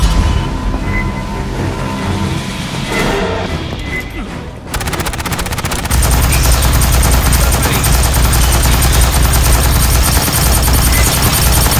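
Sustained rapid automatic gunfire from a Type 88 gun in the game Aliens: Fireteam Elite, horde mode on the Terminal Containment map, loud and continuous after a short stretch of mixed combat noise and scattered shots.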